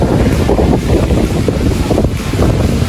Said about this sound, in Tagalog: Lakas ang ulan, lakas ang hangin.